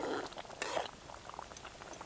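Dried gram-leaf bhaji with crushed peanuts simmers in a pot with soft bubbling and popping, louder at first and then settling into a low, steady burble.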